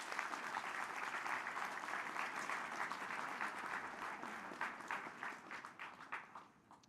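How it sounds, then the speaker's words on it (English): Sustained crowd applause at an Urban League address honors the event's sponsors, full and steady at first, then thinning into scattered individual claps as it fades out. "Let's do one clap for all the sponsors."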